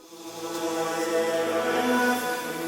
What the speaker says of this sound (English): Then hit the blur tool and tweak the amounts until you get a sound like this.